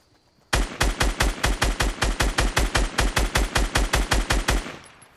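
Rapid automatic gunfire from Fortnite bursts in loud and close, about twenty evenly spaced shots in a steady rhythm for over four seconds before cutting off.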